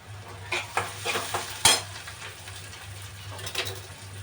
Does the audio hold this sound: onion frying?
yes